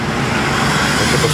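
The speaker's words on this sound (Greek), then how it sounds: "αν πατήσουμε κι άλλο γκάζι" A car drives along a road, heard from inside as a loud, steady wash of engine and road noise with no clear rise in pitch over the brief stretch.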